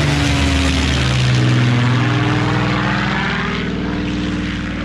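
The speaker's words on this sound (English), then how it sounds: "Shuttleworth with a wonderful Spitfire fly past" A Spitfire fighter plane roars low overhead, its loud propeller engine drone swelling and then receding with a pronounced pitch shift as it passes during a fly-past at Shuttleworth.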